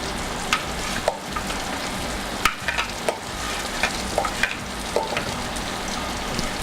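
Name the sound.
mushroom and onion mixture frying in butter in skillet, stirred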